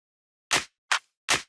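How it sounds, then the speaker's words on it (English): Three crisp electronic clap samples from an STMPD-style EDM drum sample pack, played one at a time with short gaps, bright and snappy with quick decays. "Then for the drums we have claps."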